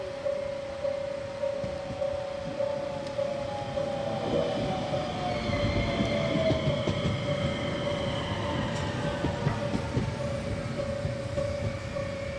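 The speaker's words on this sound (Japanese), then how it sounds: "10時7分、列車は今城駅に到着します。" A train pulls into Imajo station on the Hokuriku line in Fukui Prefecture: rumbling wheels swell in the middle, thin wheel squeals rise and fall, and a steady tone hums throughout, with no talking.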